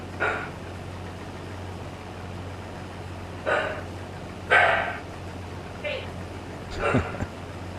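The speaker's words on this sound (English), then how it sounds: "Noisy dog. I don't know what he's barking at." A dog barks a few times at a distance, single short barks spaced out irregularly over a steady low hum, with a person talking now and then.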